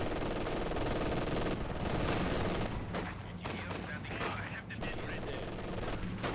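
Light machine gun fire in Company of Heroes 2, distant rattling bursts and scattered shots layered over a dense battlefield din.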